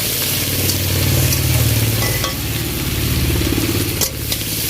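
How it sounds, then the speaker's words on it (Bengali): Onion, green chilli and tomato fry in a pan as they are stirred, giving a steady, fairly loud sizzle with occasional scraping, close up and without talk. "পেঁয়াজ কাঁচা লঙ্কা আর যে টমেটোগুলো একেবারে দিয়ে দেবো তো দিয়ে একটুখানি ভাজা ভাজা হয়ে যাক নেড়ে চেড়ে"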